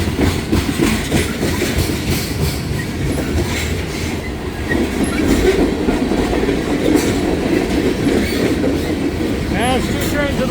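Freight trains rumble past in hot weather, two trains passing at once, with steady clickety-clack of wheels on rail, broadband roar close by and brief wheel squeals toward the end.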